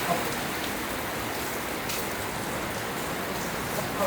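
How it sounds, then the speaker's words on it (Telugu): Steady morning rain falls outside a hotel in West Fort, a dense, even hiss of drops on surfaces with no breaks, fairly close and constant throughout. "మనకి మార్నింగే పొద్దున మంచి వర్షం వెల్కమ్ చెప్తుంది"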